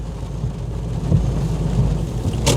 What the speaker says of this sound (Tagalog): Ito, palakasan ng palakas ang ulan.